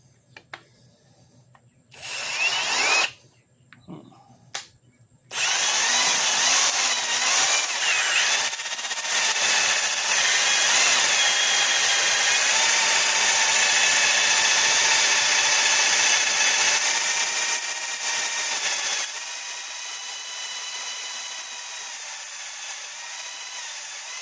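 A power drill with a drill guide, drilling for a Hemi exhaust pattern change, starts with a few short bursts, then runs loud and continuous, grinding into material before easing to a lower, steady whir.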